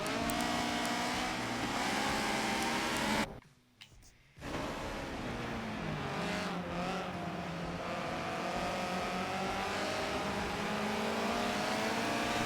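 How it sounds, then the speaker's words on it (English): Subaru BRZ and Honda S2000 race cars accelerating hard around Silverstone's International circuit during a one-make shootout race, a loud continuous engine drone with rising revs, briefly cut by a second-long drop before the roar resumes. "They do have the acceleration on Jonesy."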